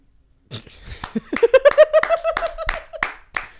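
A person claps their hands a few times, sharp and close, mixed with a sustained voiced vocal sound in a quiet room.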